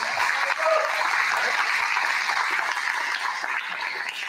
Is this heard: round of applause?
yes